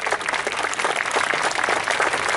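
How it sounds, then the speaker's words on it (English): A crowd applauds a falconry display at an outdoor steam fair, steady dense clapping filling the whole moment without pause, moderately close and even in loudness. "Give her a round of applause"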